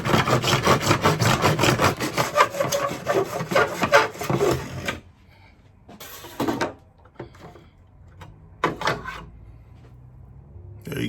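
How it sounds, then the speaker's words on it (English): A hand saw cuts PVC pipe held in a 90-degree slot, making rapid rhythmic rasping strokes for about five seconds, followed by a few sparse scrapes and knocks with quiet gaps between them. "Then we'll take our saw, put it in the 90-degree slot."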